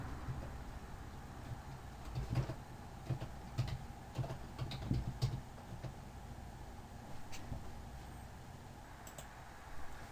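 Keys clicking on a computer keyboard as a command is typed into a network device interface, an uneven run of close, soft clicks with no voices.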